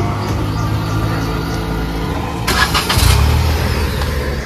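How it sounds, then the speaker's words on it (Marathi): A car engine starting and pulling away outdoors, a low steady motor rumble that surges with a burst of cranking and revving midway, close and moderately loud without speech. "आपली गाडी पण निघते."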